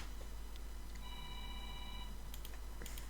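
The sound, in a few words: phone ringing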